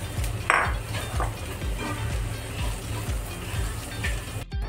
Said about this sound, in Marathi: आपण यात बटाटे घालून मिक्स करून घेऊ